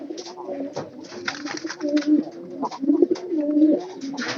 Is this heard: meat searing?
no